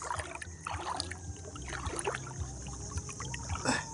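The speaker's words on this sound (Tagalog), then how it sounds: "Ito yung bangka na ginagamit namin" Water sloshes and trickles against a small boat at sea close by, with gentle paddling splashes and knocks throughout.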